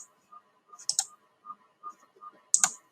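A handful of sparse keystrokes on a computer keyboard while Python code is typed, with isolated clicks and small clusters separated by short pauses, close and fairly quiet.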